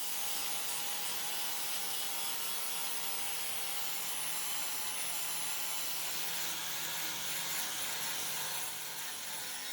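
Handheld angle grinder fitted with a flexible flap disc smoothing the full tang of a forged patterned knife, a continuous close, harsh abrasive hiss that holds steady without breaks and no talking.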